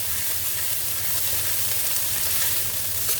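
Kimchi fried rice sizzles loudly and steadily in a pan as it is stir-fried, a dense close hiss that holds even from start to end without any voices.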